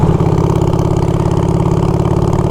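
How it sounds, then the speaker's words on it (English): An old tractor engine runs steadily with a loud, low, rhythmic chugging that throbs evenly throughout, heard close by along a country road with no talking. "wow, old tractor."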